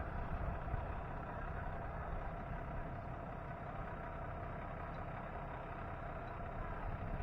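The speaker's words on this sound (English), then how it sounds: "You got all these people, tour buses, cars coming through." Tour buses and cars roll through the Gettysburg battlefield in Pennsylvania, a steady low traffic rumble with idling heavy engines, continuous and moderately close with no talk.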